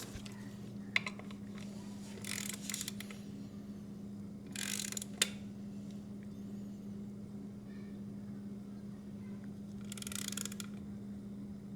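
A ratcheting torque wrench clicks in short bursts while tightening bolts in a star pattern on a 2025 Harley-Davidson Road Glide during an oil change, with quiet mechanical clicks over a steady background hum.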